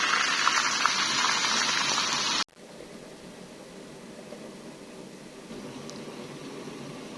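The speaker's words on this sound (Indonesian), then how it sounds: "Goreng tempe dulu." Tempeh fries in hot oil with a loud, dense sizzle that cuts off abruptly, then continues as a quieter steady crackle.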